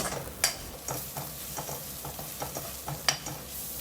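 Turmeric, coriander, chilli and pepper powders being sautéed in a pan for an egg curry, soft sizzling under a few scraping spatula strokes and light clicks against the pan, close and quiet with no talk.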